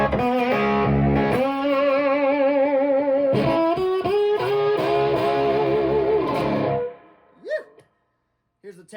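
An electric guitar played through the second pickup rings out in strummed, sustained chords with a bright, slightly driven tone, loud and close, then fades out with a short voice at the end.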